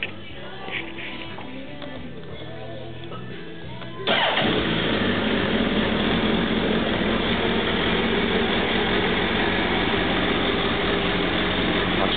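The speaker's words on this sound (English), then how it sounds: "so you can hear how the stock pipe sound." A 2009 Suzuki Hayabusa sport motorcycle with its stock exhaust cranks and starts, then runs at a steady, loud idle close by for several seconds, with no talking.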